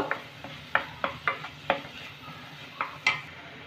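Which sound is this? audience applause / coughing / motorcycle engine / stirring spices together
stirring spices together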